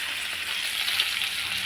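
Potatoes with turmeric fry in a pan, giving a steady, close hiss of sizzling oil that holds evenly throughout without any talk.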